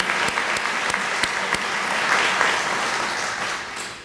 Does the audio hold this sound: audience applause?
yes